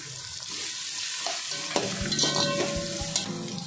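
A chopped large onion fries in a pan and is stirred while making veg chowmein. The sizzle is loud and steady, with clinking and scraping stirring strokes and a few sharp knocks near the end.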